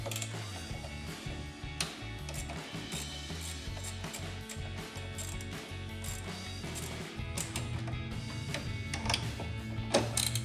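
Ratchet clicking in quick repeated bursts while loosening bolts on a Mustang GT intake manifold, with mechanical rattles and metal handling close by and no talking.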